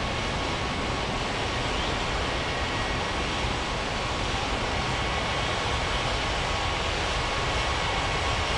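An airliner taxiing to the runway in an air traffic control game at Ngurah Rai Bali airport, a dense, unbroken engine roar that stays loud and even throughout.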